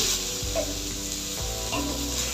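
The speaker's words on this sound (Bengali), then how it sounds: "দেখুন আমার বেগুনটা প্রায় অনেকটাই ভাজা ভাজা হয়ে এসেছে" Steady oily sizzling of brinjal frying in a pan, continuous and close, with a few soft low knocks from stirring.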